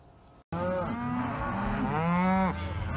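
Farm cows mooing together, excited by an arriving trailer, start after a brief pause and keep up loud, close, overlapping bellows.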